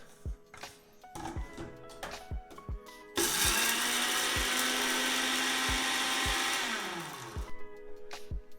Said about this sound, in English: Add some chopped chili, some mint leaves. Let's grind that up first.